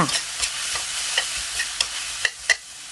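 Pork tripe is stir-fried with pickled mustard greens in a hot pan: steady sizzling with repeated sharp scrapes of a utensil against the metal, close up.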